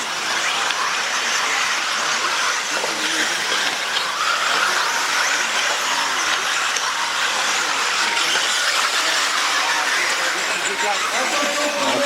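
Brushless 1/8-scale electric off-road RC cars racing in an elite A final of the French championship at Viglain, giving a continuous high whining squeal of motors and tires under steady commentary.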